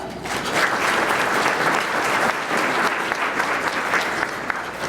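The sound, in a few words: audience applause at a luncheon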